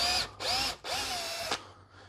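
A power drill drives a screw into an old chunk of scrap wood, three close, loud whirring bursts with pitch rising and falling, the last ending in a sharp clack, then quiet.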